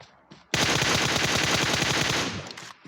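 Automatic gunfire in the mobile battle royale game PUBG Mobile, a loud, rapid burst of shots lasting about two seconds after a brief quiet lead-in.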